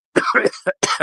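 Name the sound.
cough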